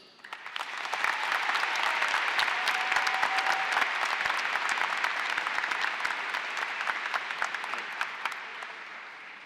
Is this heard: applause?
yes